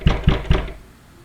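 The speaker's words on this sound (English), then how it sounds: "The door of the chamber is knocked on." Three sharp knocks sound on a chamber door in a quick, even rhythm, close and clear, followed by quiet.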